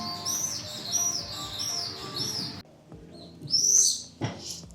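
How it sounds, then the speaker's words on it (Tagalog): Several birds chirp in the old town of Bukhara, Uzbekistan, in quick, high, repeated tweets, a steady chorus that briefly thins and then comes back. "Ang daming ibon."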